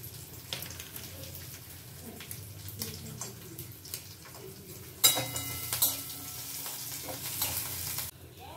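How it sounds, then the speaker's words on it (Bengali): Garlic and broken lentil dumplings fry in a pan with a soft steady sizzle, punctuated by scraping stirs and clinks, growing louder and busier for a few seconds near the end. "রসুন আর বড়িটা ভাজা হয়ে গেছে।"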